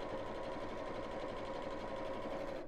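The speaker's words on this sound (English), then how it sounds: "You can only sew as fast as your sewing machine will take you." A sewing machine stitches steadily at an even, rapid rhythm, fairly quiet and close, with no voices over it.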